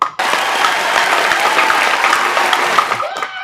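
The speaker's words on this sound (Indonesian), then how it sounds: "tepuk tangan untuk SD" Audience applause at a Madurese comedy talent show, a dense burst of clapping that starts abruptly, holds steady and loud for about three seconds, then cuts off.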